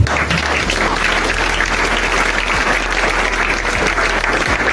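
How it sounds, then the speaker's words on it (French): Steady applause from a church congregation fills the space, dense and sustained throughout with no pauses. "Est-ce qu'on peut applaudir ici?"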